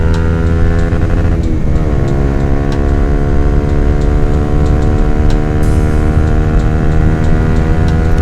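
A 2016 Honda CBR150R motorcycle engine drones loud and steady at high revs during a top-speed test ride on an open Pantura road, with a brief dip and rise in pitch at a gear change early on, then sustained whine.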